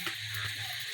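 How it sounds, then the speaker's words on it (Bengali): Rice-flour pitha frying in ghee, giving a short burst of close, even sizzling with a bright crackling hiss and no voices. "ঘি দিয়ে ভাজা হচ্ছে তো।"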